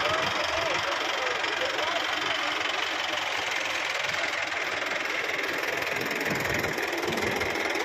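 A Mahindra 555 tractor engine runs with a steady rough diesel rumble and knocking, near and continuous, with people talking over it.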